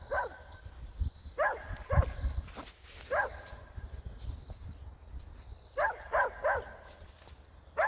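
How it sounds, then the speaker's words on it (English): Several dogs bark in repeated bursts, some in quick runs of two or three, moderately near, with thuds and outdoor background between them. "I don't know if you can hear me with the dogs barking"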